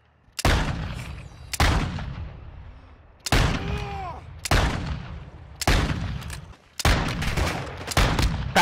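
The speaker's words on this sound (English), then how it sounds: "Oh, they just shot it. They just shot it." Gunfire in Call of Duty: Modern Warfare II, about eight sharp loud shots or short bursts spaced irregularly over several seconds, each with a trailing echo.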